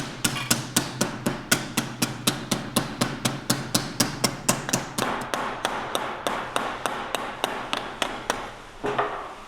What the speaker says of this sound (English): Got a couple creases right there I gotta hammer out.